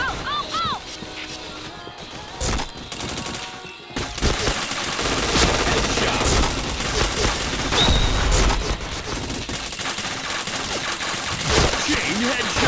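Sustained automatic gunfire fills a shooting video game match, starting with a few scattered shots and then turning into continuous loud, close bursts with clatter, while voices talk faintly underneath.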